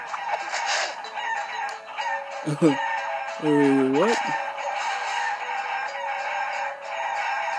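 Chickens in the video game Guacamelee on PS Vita give loud clucks and a drawn-out rooster crow over steady game music, and a voice briefly speaks.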